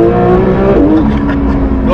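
A race car engine revs loudly and steadily at close range, holding a rough, continuous roar with a rise in pitch partway through.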